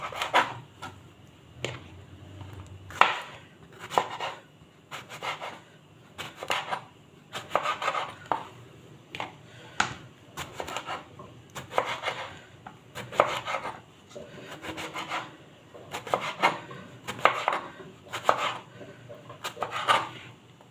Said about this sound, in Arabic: قطعت البطاطس كده وغسلتها كويس، قطعتها صوابع كده